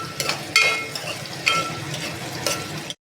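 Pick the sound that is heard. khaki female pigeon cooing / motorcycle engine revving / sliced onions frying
sliced onions frying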